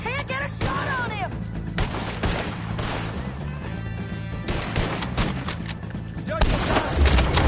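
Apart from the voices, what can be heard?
gunfight in the Red Dead Redemption 2 video game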